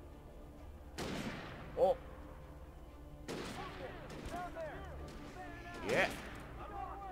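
Gunfire aimed at the player in Alan Wake, a few separate sharp shots with echoing tails under a dark ambient bed, while a man reacts with short exclamations.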